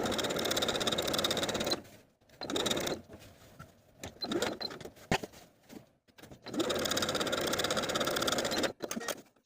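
A sewing machine topstitches around a neckline slit on a raglan sleeve top, with two long loud runs of steady stitching separated by a quieter stretch of short bursts and small handling noises as the fabric is pivoted.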